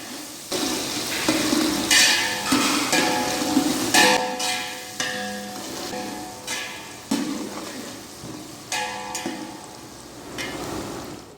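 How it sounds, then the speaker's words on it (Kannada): Chopped onion and green chilli frying in oil in a pan, with cumin and cashews, make a steady sizzle broken by repeated scraping and clanking stirs, close and loud. "ಈಗ ಈರುಳ್ಳಿ ಹಾಕ್ತಾ ಇದ್ದೇನೆ ಈಗ ಇದು ಸ್ವಲ್ಪ ಕಂದು ಕಲ್ಲರ್ ಬರುವವರೆಗೆ ಫ್ರೈ ಮಾಡೋಣ"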